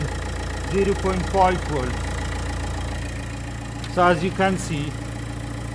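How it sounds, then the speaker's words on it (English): A cold Nissan Note 1.5 dCi diesel idles just after starting and gives a steady low drone throughout, while someone talks over it for most of the stretch. "Now I'm going to wait a little bit, because the engine is cold and I have just started the engine"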